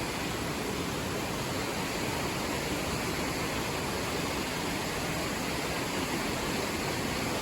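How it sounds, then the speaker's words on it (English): River rushing near waterfall gardens, a loud, steady, broadband roar of water that fills the scene without pause or change. "As for like really trying to bird watch next to a river, it's loud."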